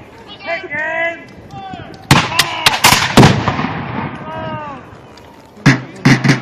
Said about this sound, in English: The cannons would usually never be used at this close range.